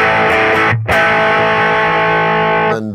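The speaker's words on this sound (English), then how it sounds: "And then now this does our distortion." A Line 6 POD Express guitar pedal's distortion effect gives a loud, sustained, harmonically rich overdriven guitar tone, briefly choked off once near the start before ringing on steadily, with no voices.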